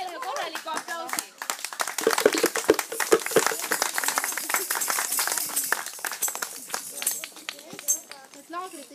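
A crowd at a camp gathering breaks into hearty applause, dense rapid clapping that swells and carries on for several seconds, with voices and cheers woven through it.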